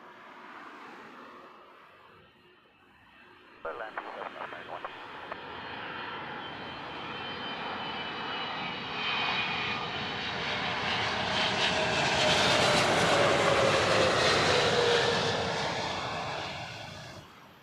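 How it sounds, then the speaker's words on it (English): An airliner comes in to land on Heathrow's southern runway, its engine roar swelling from a distant rumble into a loud, broad whine that peaks near the end and lingers, with no voices. "We're catching arrivals onto Heathrow Southern Runway"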